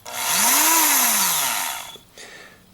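A Dremel rotary tool cuts into material for a gargoyle sculpture, its motor spinning up into a loud, close high-pitched whine for about two seconds before dropping off, then a brief second burst.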